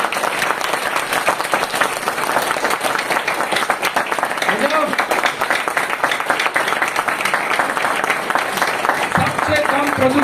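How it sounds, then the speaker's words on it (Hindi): Loud, sustained applause from an audience at a Hindi talk, continuous clapping throughout, with brief voices and shouts rising over it midway and near the end. "तो जोरदार तालियां होनी चाहिए"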